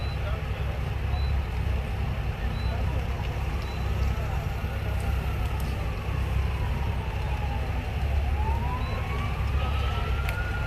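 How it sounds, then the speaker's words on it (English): A police siren wails over a dense wash of outdoor noise and crowd talk near a bridge in St. Catherine, Jamaica, where a car went off into the water; the rising and falling tone stays moderately distant throughout. "Where siren come now for?"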